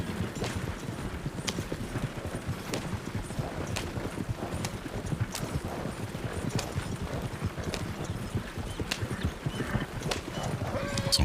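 Horse hooves gallop in a video game, a steady fast clip-clop rhythm of sharp repeated strikes at moderate loudness, continuing throughout with no talk.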